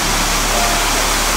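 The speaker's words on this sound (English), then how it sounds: "Just going up to the waterfall now." A waterfall swollen after rain roars as a dense, constant broadband rush, loud and close, with no other sounds breaking through.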